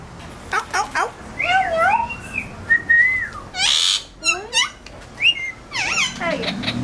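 A pet parrot whistles, chirps and gives meow-like calls in a rapid, varied string of close, loud vocalizations, with short pauses between bursts.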